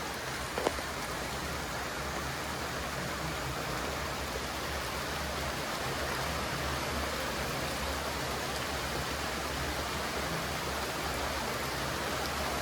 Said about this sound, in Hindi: अच्छी बारिश हो रही है